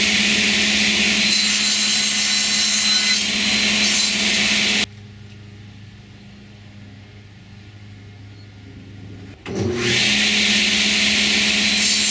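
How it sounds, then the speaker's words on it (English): A quarter-sawn oak board is cut to length with a loud, continuous saw whine that stops for about five seconds, leaving a quiet hum, then starts again. "First step is to cut off the rough end of this piece and then cut it to length."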